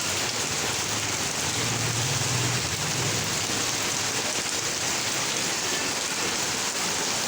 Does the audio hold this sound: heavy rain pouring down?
yes